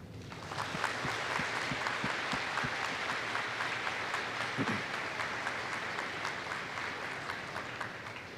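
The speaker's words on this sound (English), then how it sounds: "Please join me in the first of many rounds of applause for the veterans" An audience at a school Veterans Day assembly applauds the veterans in sustained, dense hand clapping that holds steady for several seconds with no talk over it.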